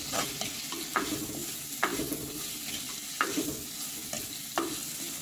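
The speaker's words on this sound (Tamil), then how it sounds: "இனி கருவேப்பிலை ஒரு மூன்று நெட்டு எடுத்துகிட்டு இருக்கிறேன் அதை போடும் நல்லா வதங்க" Curry leaves sauté in hot oil in a pan, giving a continuous soft sizzle broken every second or so by a louder stirring scrape, close and steady with no talking.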